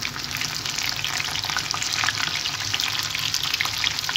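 Tofu (tau kwa) frying in hot oil, a steady, dense crackling sizzle that holds close and loud throughout with no talk over it.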